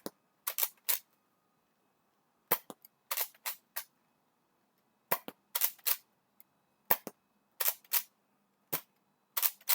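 Nerf N Series Pinpoint blaster firing foam darts in quick bursts of two to four sharp snapping shots, separated by short silent pauses and heard up close.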